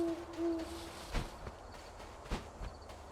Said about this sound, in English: There's an owl in this level.